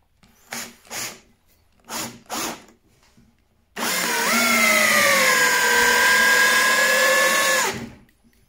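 A Parkside PABS 20-Li D5 cordless drill drives a 14 cm screw into wood with a loud, steady whine that dips slightly under load for about four seconds. A few short knocks come just before it starts.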